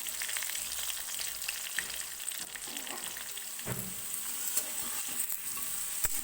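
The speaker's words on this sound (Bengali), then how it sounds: "আমি আলুগুলোকে ভেজে দেখাচ্ছি" Salted potatoes fry in mustard oil, a steady close sizzle running throughout, with occasional scraping stir strokes breaking through the continuous crackle.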